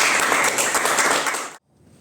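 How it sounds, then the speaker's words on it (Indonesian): A classroom applauding Mas Didan, a burst of many hands clapping together for about a second and a half before cutting off abruptly into near silence. "Beri aplaus pada Mas Didan"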